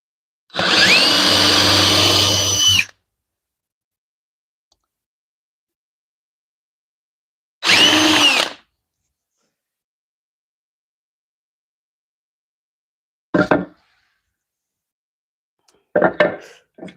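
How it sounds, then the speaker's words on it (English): Power drill running in two bursts, a long whir of about two seconds and a shorter one, during a homemade wedge vise build, with brief quieter tool noises near the end. "It's gonna still mean I gotta drill those two out."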